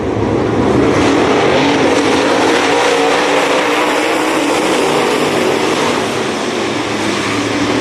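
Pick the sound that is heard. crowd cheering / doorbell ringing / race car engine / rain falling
race car engine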